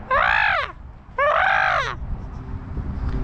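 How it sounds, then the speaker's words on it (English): A crow caws twice outdoors, loud and close, each caw a harsh drawn-out call, followed by low background noise. "Oh, it's a crow."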